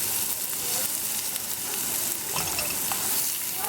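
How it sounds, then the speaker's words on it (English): Ingredients for a low carb chicken tortilla soup sauté in a pot, giving a steady close sizzle and crackle with faint stirring, no voices over it. "I'm going to saute this maybe for about 5 minutes on medium-low."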